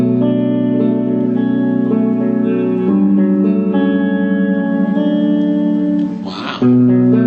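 Sustained electric guitar chords washed in lush post-EQ reverb from an old rackmount multi-effects unit, ringing steadily with a brief brighter strum near the end, no voices.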